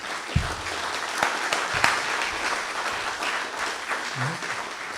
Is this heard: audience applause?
yes